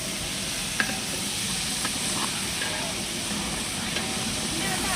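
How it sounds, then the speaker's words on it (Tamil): Ginger garlic paste frying in a pan for chicken gravy gives a steady, dense sizzle and hiss with faint stirring scrapes, continuous and fairly close. "இஞ்சி பூண்டு நல்லா வதக்கணும்"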